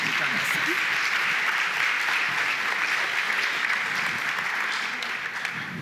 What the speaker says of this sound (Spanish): Lo aplaudimos fuerte para iniciar